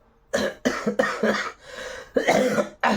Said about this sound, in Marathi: खोकला येतोय सर्दी खोकला